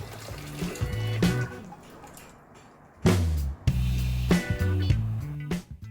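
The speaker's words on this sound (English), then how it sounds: "I've got 1 liter of really boiling hot water, fresh out of the kettle. We'll add that as well." Boiling water poured from a kettle into a dye bucket in two splashy, gurgling pours separated by a short pause, close and fairly loud with no talking.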